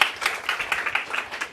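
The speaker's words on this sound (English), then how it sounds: "give them a big round of applause." A short burst of clapping from a conference audience at a ClimateCAP 2025 session, a handful of uneven claps rising and falling over about a second and a half.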